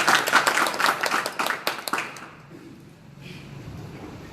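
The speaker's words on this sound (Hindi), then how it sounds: "सम्मानीय जोरदार ताली बजाएं।" An audience at a speaking event gives a short burst of loud, dense clapping that dies away after about two seconds, leaving near quiet with a faint voice afterward.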